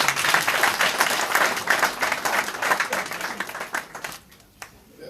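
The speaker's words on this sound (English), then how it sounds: "Give yourselves a round of applause." Dense audience clapping fills a community meeting hall in Birmingham, loud and sustained at first, then thinning into scattered claps as it dies away toward the end.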